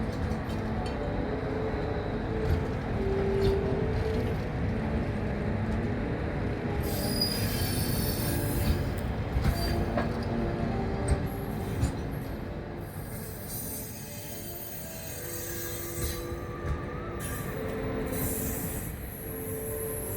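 Trains at Odesa railway station, with loud, sustained wheel squeals and metallic screeching over a rolling rumble of railcars, continuing for the whole stretch without talk.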